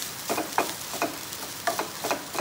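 Chilli flakes stirred in a frying pan, a spoon scraping in several short strokes over a soft, steady sizzle, close and fairly quiet, with no voices.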